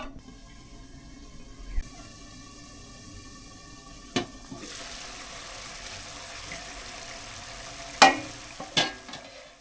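Spice paste sautéing in oil in a pan for a snakehead fish curry, a steady soft sizzle with occasional sharp clinks and scrapes of stirring, close and alone with no voices.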